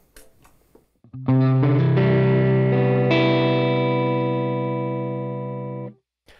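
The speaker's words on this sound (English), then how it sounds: "If I want to turn the reverb on." An electric guitar chord rings out through a Line 6 Helix LT modeling processor with reverb switched on. The single loud strum holds for several seconds, slowly decays and then cuts off sharply, with no talking over it.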